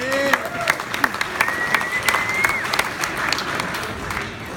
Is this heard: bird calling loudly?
no